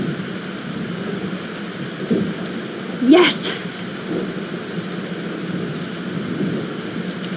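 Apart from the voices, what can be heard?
thunderstorm with rain in the video game Life is Strange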